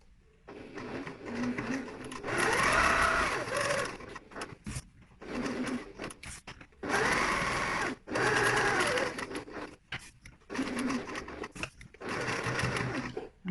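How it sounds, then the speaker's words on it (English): A sewing machine stitches around the edge of a box-shaped bag section in several short runs of rapid needle rattle, with brief pauses between them, close and moderately loud. "we're going to sew all around the edge of the box"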